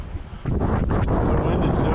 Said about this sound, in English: The wind is no joke today.